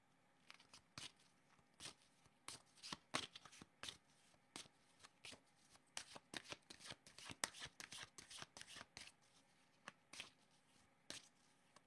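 Tarot cards are shuffled close up in a quick, irregular run of crisp riffling slaps and flutters that lasts throughout, with no talking over them.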